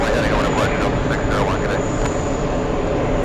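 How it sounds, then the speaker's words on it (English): An EgyptAir airliner going around at JFK, its engines producing a loud, continuous roar with a steady high whine above it, close and unbroken for the whole stretch. "Egypt Air going around."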